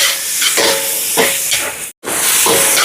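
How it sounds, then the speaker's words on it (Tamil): Tomatoes sauté and sizzle in a pan over softened onions, a loud steady frying hiss with soft rhythmic stirring scrapes and a brief break near the middle. "இப்போ தக்காளி பழம் நல்லா வதங்கட்டும்"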